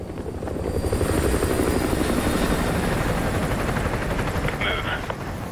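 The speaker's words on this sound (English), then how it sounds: "Enemy helo patrolling the perimeter." In the Call of Duty Modern Warfare 2 campaign, an enemy helicopter on patrol gives off a loud, continuous rotor thump and engine roar that stays steady throughout, with a brief faint radio-like chirp near the end.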